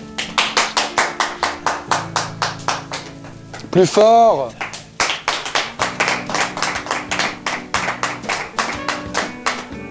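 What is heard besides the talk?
applause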